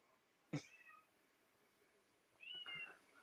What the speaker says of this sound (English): Like you can hear my cat, huh?